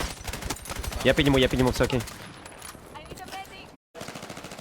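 Rapid bursts of gunfire crackle through a Battlefield 6 battle royale match, fairly steady and mid-distance, running beneath a player's excited talking before briefly cutting out.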